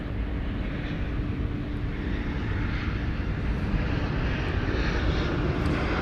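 A US Airways American Airlines heritage-livery jet at DFW Airport at night, a loud, steady broadband engine roar that stays constant throughout, close by, with no talk.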